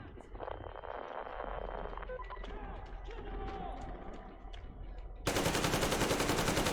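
Rapid gunfire in the video game Metro Exodus, a steady crackle of shots under raised voices and battle noise, swelling into a dense, loud burst of fire near the end.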